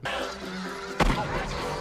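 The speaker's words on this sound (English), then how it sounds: "Disney just showed them shooting and killing a goose?" A goose honks over orchestral film music in a hunting scene from Disney's animated Beauty and the Beast, then a single sharp gunshot cracks loudly and the honking stops.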